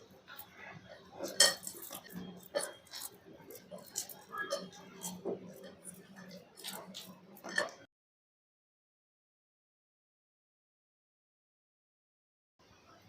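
Spoon scraping and clinking against a bowl while green pea bhaji batter is mixed, a steady run of close, light knocks and scrapes for several seconds that then stop, leaving silence.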